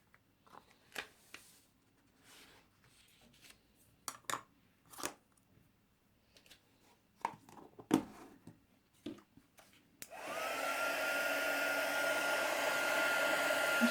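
A heat tool melts clear embossing powder over a stamped image, starting partway through as a loud, steady blowing roar after scattered small handling taps and rustles.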